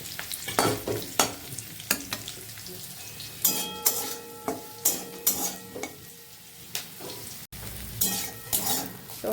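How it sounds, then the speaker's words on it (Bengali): Potato, onion and cauliflower pieces frying in a pan, with a loud close sizzle and repeated sharp clinks and scrapes of a spoon against the pan, uneven stirring strokes throughout and nobody speaking. "আলু পেঁয়াজ কলির ভাজা আমার হয়ে গেছে"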